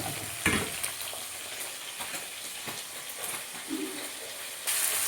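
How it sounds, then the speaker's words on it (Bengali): Fish with green chilies frying in a home kitchen pan, a steady crackling sizzle with occasional louder spatters and stirring scrapes, close by and with no talk. "মাছটা আমি পুরো একবার ভেজে কষিয়ে নিলাম"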